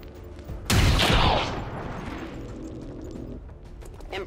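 A loud burst of gunfire in the video game XCOM 2 hits early, then a crackling tail fades into quieter background game sound.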